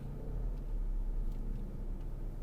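A 2022-2023 Lincoln Aviator creeps forward under park assist, its low steady engine and road rumble heard from inside the cabin, even and continuous with no voices.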